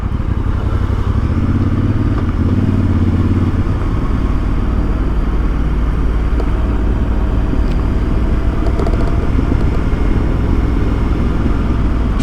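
A Voge DS800X motorcycle rides over bumpy road, its engine a loud steady drone with wind rush and scattered clatters and knocks from the bumps, heard close up with no talking.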